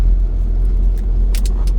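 Honda mini truck with no air conditioning cruising at around 30 to 40 km/h, its engine and road noise a steady low rumble throughout, close and fairly loud, with brief higher hiss bursts near the end.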